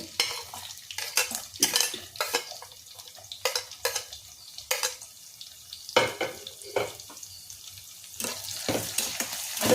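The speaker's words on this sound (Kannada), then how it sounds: "ಸ್ವಲ್ಪ ಫ್ರೈ ಆಗಬೇಕು ಜಾಸ್ತಿ ಏನು ಬೇಡ ಸ್ವಲ್ಪ ಫ್ರೈ ಆದರೆ ಸಾಕು" Onions frying and being stirred in a pan for hotel-style mushroom biryani, with repeated scraping and clinking strokes of a utensil over a soft, steady sizzle, close and moderately loud, no talking.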